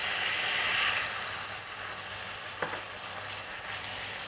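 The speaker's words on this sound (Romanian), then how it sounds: "turnăm și sosul de soia" Soy sauce poured into a hot pan of Chinese cabbage and vegetables, a loud hiss that settles into a steady sizzle, with a faint utensil clink partway through.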